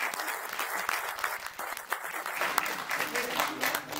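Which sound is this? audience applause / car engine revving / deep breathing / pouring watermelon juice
audience applause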